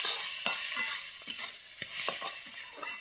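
Spices with salt, chilli powder and turmeric fry in a pan under a steady sizzle, with a spoon scraping and tapping in an irregular stirring rhythm close by.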